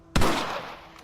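A single sharp rifle gunshot in the Western video game Red Dead Redemption, a loud close crack followed by a long rolling echo that fades slowly over about a second.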